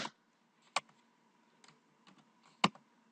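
A computer keyboard clicks sparsely as someone types code, with a few isolated sharp keystrokes separated by quiet gaps.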